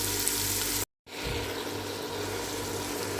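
Onions and peppers with spices frying in a pan, a soft steady sizzle that cuts out briefly for a moment before resuming, quiet and close with no talking.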